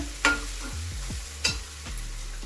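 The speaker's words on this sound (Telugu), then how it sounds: "దీంట్లో మనం ఒక 1/2 స్పూను అల్లం వెల్లుల్లి పేస్ట్ వేసుకుని బాగా కలుపుకోవాలి" Ginger garlic paste frying with onions in a pan while being stirred, giving a low sizzle under a few sharp scraping strokes of a spoon, close and moderately loud.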